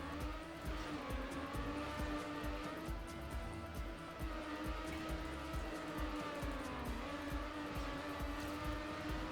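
A car engine drones steadily in Trackmania Nations on a dirt track, with the revs holding and dipping slightly. Faint tire slipping and skidding noise runs continuously underneath at a constant loud level.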